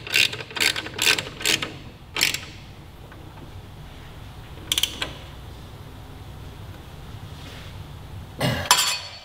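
A torque wrench ratchets as it tightens the lower shock bolt on a 2018 Suzuki GSX-R1000 during an Ohlins shock install, giving close bursts of rapid clicks, then a pause and two more clicking bursts.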